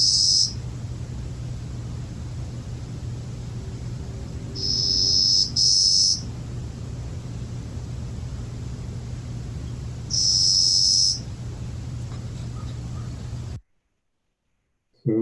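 A sparrow gives a strange, insect-like buzzy song in three or four short, high, dry bursts spaced several seconds apart over a steady low hum, then stops.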